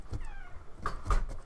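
A cat meows a few times indoors, short moderately loud calls rising out of quiet room noise, with a faint thump or knock-like sound mixed in.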